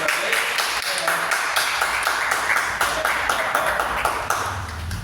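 Church congregation in an evangelical service clapping in long, rhythmic unison beats, fairly loud and close, with voices blended underneath.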